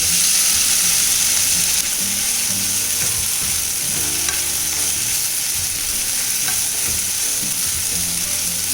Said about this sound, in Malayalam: അപ്പോൾ ആ എണ്ണയിൽ നമുക്ക് ക്യൂബ്സ് ആക്കി വെച്ചിരിക്കുന്ന ഇഡ്ഡലി ഒന്ന് ജസ്റ്റ് ഒന്ന് ഫ്രൈ ചെയ്യാം.